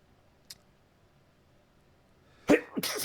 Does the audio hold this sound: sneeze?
yes